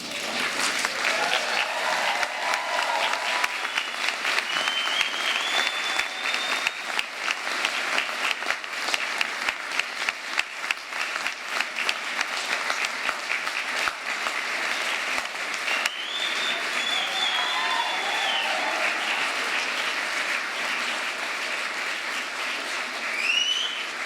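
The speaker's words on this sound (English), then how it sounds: "give your supporters a loud cheer and a round of applause" A large crowd at a graduation ceremony applauds steadily with cheers and a few whistles rising over the clapping, sustained and loud throughout.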